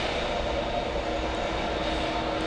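Airbus A380 jet airliner at JFK airport, a loud steady broadband engine roar that holds evenly throughout, with no voices over it.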